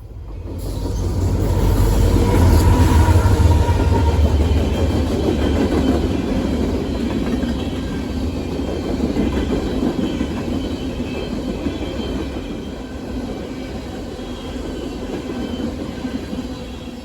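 A CSX freight rock train led by an SD70MAC locomotive passes near Brunswick, Maryland, its steady rumble of rolling rail cars swelling loud and close, then continuing as a sustained clattering roar of wheels on track.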